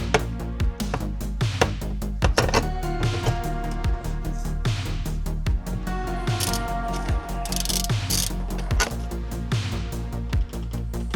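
A hand tool ratchets in quick repeated clicks while turning seat lead screws inside a flood-damaged Acura NSX, close and loud, in uneven bursts with brief pauses and metallic clatter.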